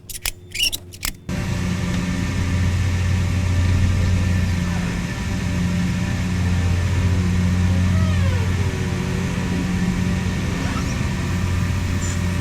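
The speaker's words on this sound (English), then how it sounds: "What I'm gonna do is just pull it onto here using my car." A car engine hums steadily at a low, even pitch as the car slowly tows a jet ski onto a homemade dolly, after a few sharp clicks and knocks at the start.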